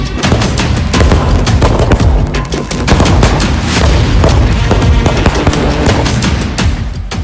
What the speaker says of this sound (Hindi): जब घर घर पटाखे फूट रहे होते हैं